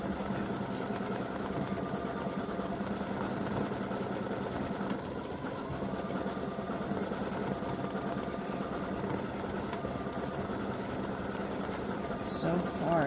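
An embroidery machine stitches freestanding lace earrings, a steady, fairly faint mechanical whir with a continuous rapid needle rhythm running unbroken throughout.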